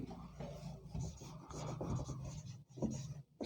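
Scratchy strokes of writing on a board during a Class 12 physics lesson deriving light refraction at a convex spherical surface, steady and close, with a faint voice-like hum beneath.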